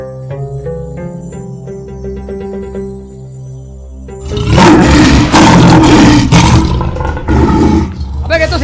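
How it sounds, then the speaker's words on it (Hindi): A lion roar bursts in loud and close over a comedy scene's background music, a deep rough roar lasting several seconds and swelling in pulses. "अबे ये तो शेर की आवाज है"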